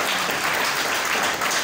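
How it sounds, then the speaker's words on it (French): Journalists gathered in Kinshasa applaud with a thick, continuous wash of many hands clapping, loud and even for the whole moment. "Vous pouvez vous applaudir, les journalistes de Kinshasa."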